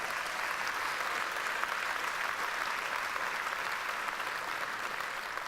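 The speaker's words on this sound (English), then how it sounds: "You're allowed to applaud them for what they've done." Audience at a Rotary conference applauding, a dense, even wash of clapping that holds steady throughout at moderate volume, with no voices on top.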